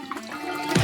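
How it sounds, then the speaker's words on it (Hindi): Liquid Tabasco hot sauce poured into a cake during a decorating challenge, a steady trickling splash that swells briefly near the end, no voices. "हाँ, अब तीखेपन के लिए बस थोड़ा सा टबास्को सॉस डाल देती हूँ।"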